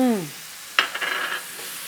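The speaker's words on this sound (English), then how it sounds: "So you really just want to keep cooking the beef until it's brown." Ground beef browning with onions in clarified butter in a pan for Lebanese hushwee rice, a brief stirring scrape followed by a close, steady sizzle.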